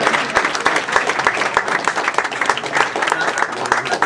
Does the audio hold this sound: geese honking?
no